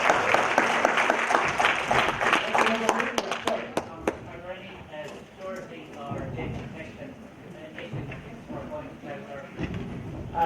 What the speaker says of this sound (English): Can we just get a big round of applause